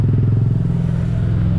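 Several motorcycles set off together from a campsite toward Bhundole, giving a steady, close, low engine drone with a throbbing pulse and no voices over it.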